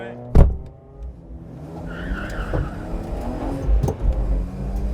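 A car engine hums and revs steadily from inside the vehicle during warm-up laps on the Nemunas Ring race circuit, with a sharp thump near the start and occasional bumps, with no voices.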